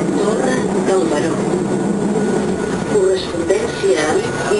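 Inside a Rodalies de Catalunya commuter train bound for Martorell, a steady rumble of wheels on rails fills the carriage, with faint squeals and onboard announcements and voices heard over it.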